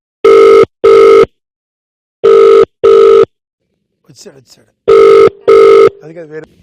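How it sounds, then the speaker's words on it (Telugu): A phone line rings in loud, close double bursts, three pairs with pauses between, and faint murmuring voices in the gaps. "ఓకే మా రాఘవకు ఫోన్ చేద్దాం"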